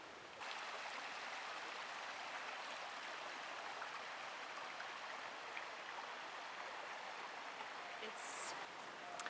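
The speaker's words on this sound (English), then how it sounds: "it has a creek, and you get the sound of the water and the birds" Water flows in a continuous, even rushing wash, with a faint high chirp near the end.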